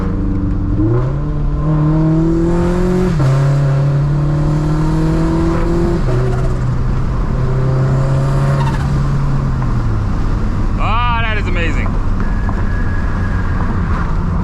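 A turbocharged Scion FR-S accelerating hard through several gears, its engine rising in pitch and dropping at each shift, loud and close from inside the car, with a brief tire squeal near the end.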